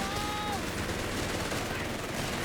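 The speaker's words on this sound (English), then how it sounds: "Infantry section Flak gun and machine gun combining up, getting the squad wipe" Dense, continuous gunfire from a flak gun and machine gun in the video game Company of Heroes 3, rattling under a noisy battlefield wash throughout.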